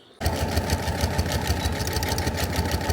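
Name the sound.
sewing machine sewing a strap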